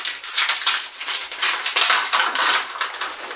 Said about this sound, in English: I will now add my onga and stir everything.